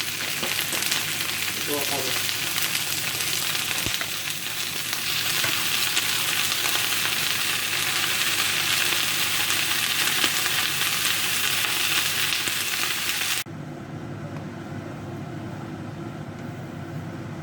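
Food sizzles loudly and continuously in a frying pan while being stirred, a dense hiss that drops abruptly to a quieter sizzle near the end.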